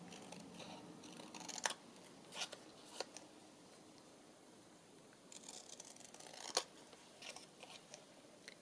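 Scissors trim a paper frame for an autumn journal pocket in quiet, close snips and crisp paper rustles, with a few sharper cuts scattered through an otherwise hushed room.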